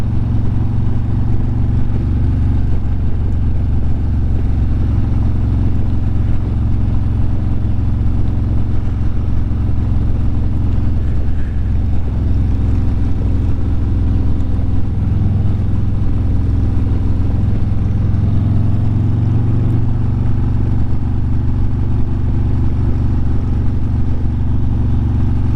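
Steady close engine drone of a motorcycle cruising along curvy country back roads with little traffic, loud and continuous with slight rises and falls in pitch.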